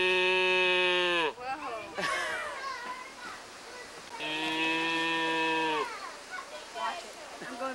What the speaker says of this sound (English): We hear your cow.